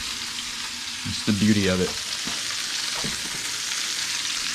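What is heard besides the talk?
meat searing and sizzling in a pan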